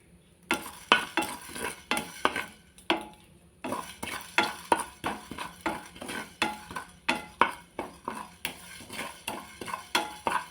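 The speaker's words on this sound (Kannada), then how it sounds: "ಆಮೇಲೆ ಸ್ವಲ್ಪ ಕರಿಮೆಣಸು ಇಷ್ಟು ಹಾಕಿ ಚೆನ್ನಾಗಿ ಫ್ರೈ ಮಾಡುವ" Food stir-fried with black pepper in a pan, repeated scraping and stirring strokes in a steady rhythm over a soft sizzle, close and fairly loud with no voices.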